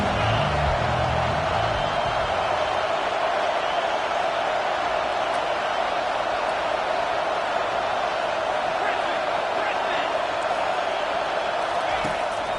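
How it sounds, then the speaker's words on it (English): A college football stadium crowd roars in a steady, dense, distant wash of noise during a drive, with a commentator talking over it throughout. "this crowd is tearing the lid off this place."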